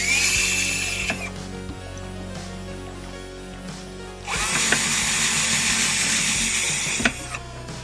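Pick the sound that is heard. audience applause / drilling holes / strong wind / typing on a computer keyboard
drilling holes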